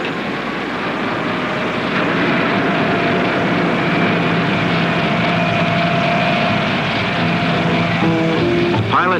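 A Mohawk Airlines FH-227 airliner drones with a dense, steady engine roar and a constant tonal hum, loud and unbroken for the whole stretch.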